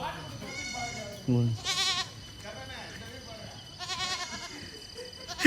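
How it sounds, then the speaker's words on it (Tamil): Several small goats bleat in short, wavering cries, a few close calls spread out between people talking over them. "இங்கே ஆடு பார்த்திங்கன்னா பெருசாக இல்லை, ஆடு ரொம்ப குட்டியாக இருக்குது"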